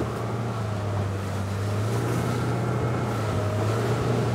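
A 2021 Saxdor 200 Sport motorboat runs down a metre-plus ocean swell with a steady loud engine drone, rushing water and wind buffeting, and no talk.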